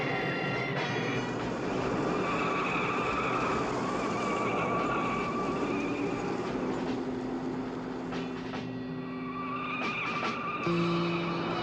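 A 1976 car driving fast, a loud continuous roar of engine and rushing road noise with rising and falling whines, steady throughout with no voices.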